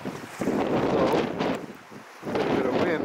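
Gusty northeast wind during a nor'easter buffets the microphone in loud, rumbling surges that ease briefly and return.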